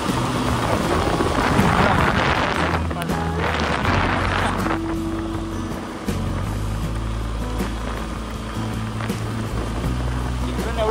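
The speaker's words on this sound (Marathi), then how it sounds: "मध्ये आलो आणि पाऊस चालू झाला परत." Steady rain hisses over a low, droning motorbike engine on a solo highway ride from Mumbai toward Konkan, with wind and road noise filling the mix throughout and brief talk over the top.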